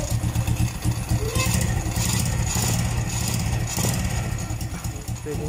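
A car engine idles with a rough, noisy exhaust caused by a leaking exhaust gasket or worn O-ring, a steady low rumble with pulsing rasp, heard up close while someone talks over it.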